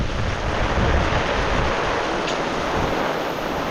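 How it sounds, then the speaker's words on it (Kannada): Heavy peak-monsoon rain pours steadily in Sandhan Valley, Maharashtra, a dense, loud, unbroken wash of downpour with wind rumble, close and continuous throughout, with no voices. "ನಾನ್ ಸ್ಟಾಪ್ ಮಳೆ, ಎಲ್ಲೋದ್ರೂ ಮಳೆ"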